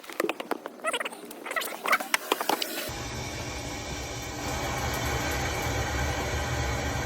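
Water starts rushing through newly repiped under-sink pipes once a valve is opened. A few light clicks and taps give way to a steady, close hiss of flow with a low rumbling undertone that continues evenly.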